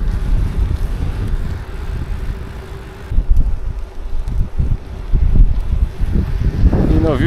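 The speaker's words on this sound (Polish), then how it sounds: "I do tego wieje." Wind gusts rushing past a bicycle rider on an exposed asphalt stretch beside the Elbląg Canal in November, a steady low roar across the microphone with a brief lull midway.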